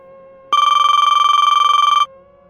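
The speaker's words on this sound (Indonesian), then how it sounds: "Dan tak lama HP ku berbunyi." A phone rings in a steady electronic trill, a single loud burst of rapid repeated pulses lasting about a second and a half, close by and with no one talking.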